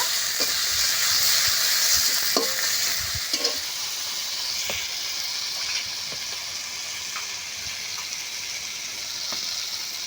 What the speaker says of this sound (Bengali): লঙ্কার গুঁড়ো দিয়ে দেব বেশ ভালো করে মশলাটা কষে নেব